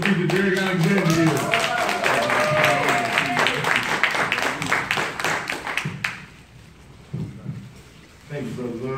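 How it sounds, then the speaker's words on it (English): An audience applauds a keynote speaker at a North Tulsa youth mentoring event. Dense clapping and cheering fills the room for about six seconds, then fades out, while someone talks over the start. "Guys, give a round of applause for our keynote speaker, Derek Alexander."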